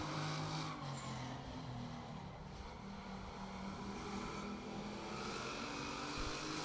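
A race car lapping a short oval during qualifying with its fault of being tight off turn four, heard as a steady, droning engine note from a distance, faint and continuous with no speech.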